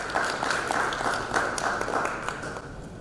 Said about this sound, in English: A big round of applause for it.